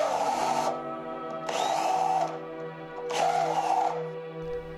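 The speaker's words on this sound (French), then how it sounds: "Et j'ébavure les bords avec une petite fraise." A small countersink bit deburrs the edges of screw holes in steel leg plates for a solid oak desk, giving three short whirring bursts of high-pitched grinding separated by brief pauses, close and clear.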